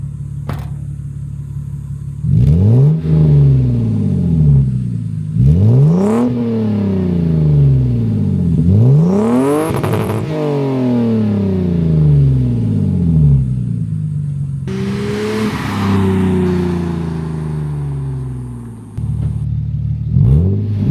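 A Lexus IS300 with a newly installed aftermarket exhaust revs hard several times up to the rev limiter, each loud close blip climbing and falling back to a rumbling idle, with no talking.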